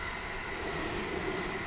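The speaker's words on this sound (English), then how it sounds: "that is a train passing by." A train passes close by, a steady, loud broadband rumble and rush that holds evenly throughout with no talking over it.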